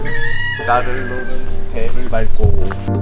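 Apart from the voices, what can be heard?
rooster crowing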